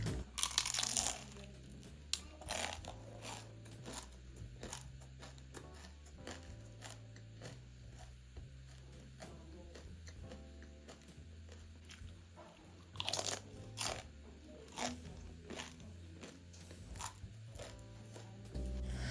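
Loud crunchy bites and chewing of fried money bag dumplings in thick wrappers recur every few seconds, close up, with crisp crackling bursts over a low background hum.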